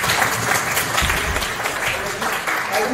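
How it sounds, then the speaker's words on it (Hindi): Loud applause from the crowd at a Hindi poetry evening, a full, sustained burst of clapping that fills the space with faint voices mixed in underneath. "जोरदार तालियां"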